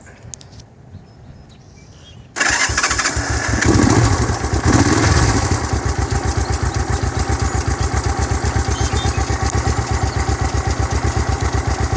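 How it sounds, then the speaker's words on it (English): A 1968 Honda CL450 K1 motorcycle engine cranks on the electric starter and catches, then settles into a loud, steady idle with an even, throbbing beat close by. "I'm going to start it up with the electric start."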